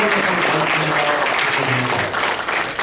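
Audience at an alcohol appreciation talk at a convention applauding, a thick continuous wash of clapping from a sizable crowd, loud and close.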